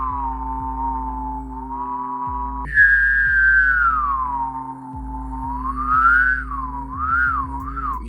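Human whistling shifting into a rounded O-type whistle tone, a sustained pure pitch that jumps higher midway, then glides and wavers, heard close and alone over a faint low rhythmic tapping.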